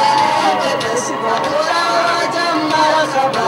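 A large crowd gathered in Agadez for the First Lady's visit, a dense, steady murmur of many voices with faint calls rising through it.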